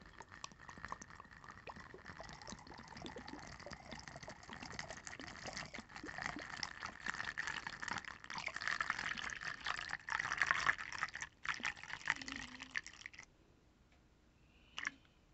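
Vodka pours steadily into a jar while making homemade vanilla extract, a continuous liquid gush that builds slightly in fullness before stopping abruptly near the end, leaving quiet room tone.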